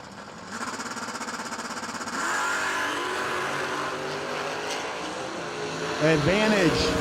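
At the Bernie Mann Memorial No Delay Nationals drag race, an AMC race car on Hoosier tires with an SRT racing transmission launches and screams down the strip, engine pitch rising through shifts, with a second surge of roaring near the end.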